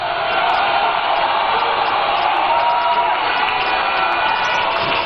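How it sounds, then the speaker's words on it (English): Large outdoor crowd at a political party manifesto launch rally in Winneba, a continuous loud wash of cheering, whooping and clapping with no breaks, heard from within the crowd. "a round of applause for the Member of Parliament for the good people of Tamale South, Honorable Haruna Idrisu"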